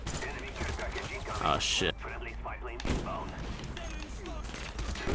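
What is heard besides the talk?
FAMAS rifle gunfire in video game Black Ops 1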